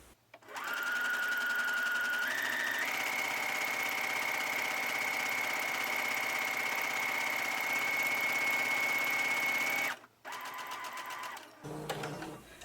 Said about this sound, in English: Alright, I'm going to begin sewing, and we are not back stitching.